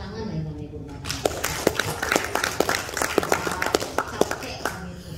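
A group applauds housewives at a spoken gathering, with scattered, uneven claps mixed into a dense crowd murmur and overlapping talk throughout.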